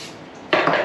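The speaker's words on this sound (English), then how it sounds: "I'm going to spray my pan because I don't want them to stick" Cooking spray hissing onto a muffin pan, a brief close burst of spray lasting under half a second after a quiet moment.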